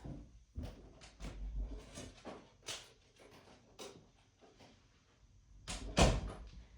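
An office door is opened to let a dog in: a few soft knocks, thumps and a latch-like clatter in a quiet room, with the loudest bang near the end.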